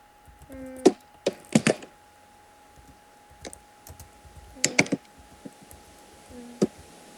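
Computer keyboard keys clatter in quick irregular bursts of clicks during an online PvP game, with pauses between typing runs and a faint steady tone in the background.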